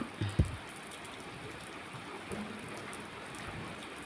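Steady rain pours during a windy thunderstorm, a soft, continuous hiss with one brief thump near the start and no voices.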